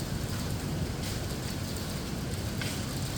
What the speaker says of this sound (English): Raining like crazy.